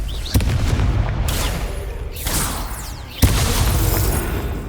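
Booming spell blasts from Confringo casts in the video game Hogwarts Legacy, three loud bursts spaced a second or two apart over a dense, rumbling background of combat noise.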